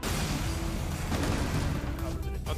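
Gunfire in Rainbow Six Siege, a dense burst of game shots and impacts running throughout under steady background noise, with voices chattering over it.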